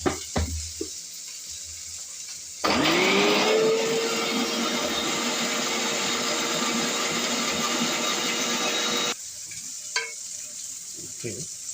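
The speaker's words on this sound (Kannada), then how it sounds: "ಸೊ ಇದನ್ನು ನಾವು ಗ್ರೈಂಡ್ ಮಾಡಬೇಕು. ಗ್ರೈಂಡ್ ಮಾಡ್ಕೊಂಡು ಬರೋಣ ಬನ್ನಿ." A mixer grinder grinds lima beans and coriander into paste, starting with a sharp whine that settles into a loud steady whir for about six seconds before stopping, with quiet handling noises before and after.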